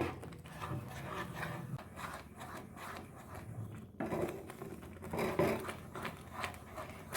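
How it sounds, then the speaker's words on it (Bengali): Roasted semolina is stirred into boiled milk in a pan, giving a continuous soft scraping and rubbing with uneven swells as the spoon works through the thickening mixture. "এবার আমি ভেজে রাখা সুজিটা দিয়ে দিচ্ছি এবার খুব ভালো করে একদম নাড়তে হবে"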